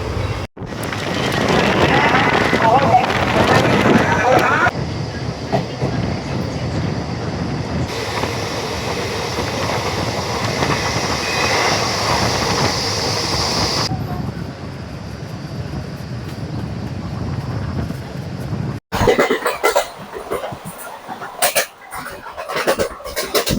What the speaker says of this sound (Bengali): ট্রেন কিন্তু ভালো স্পিড এখন চলছে উত্তরপ্রদেশ রাজ্যের উপর দিয়ে